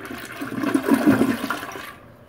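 A household toilet flushes nearby, a rushing swirl of water that swells in the middle and then tapers off into quiet.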